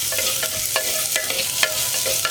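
Vegetables sautéing in a pan for vanpayar (cowpea) stew, a steady broadband sizzle broken by several sharp stirring scrapes and clinks at irregular intervals, close and fairly loud with no talking.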